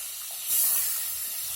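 Rohu fish pieces rubbed with salt and turmeric fry in hot oil in a home kitchen, giving a steady close hissing sizzle that swells briefly and then holds on, with no talk.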